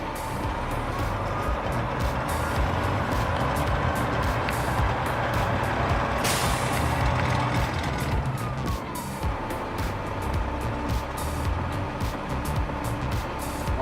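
A truck engine is held at raised revs to build air brake pressure, giving a continuous loud drone with a brief hiss of air partway through and no talking over it.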